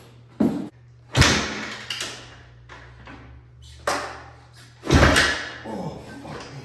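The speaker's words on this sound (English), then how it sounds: "this is not an easy bike to kick over" A 1984 Honda CR500 dirt bike is kicked over several times after sitting for over 25 years. Each kick lands as a heavy thump with a brief mechanical rush, spaced irregularly over a faint steady hum, and the engine never catches.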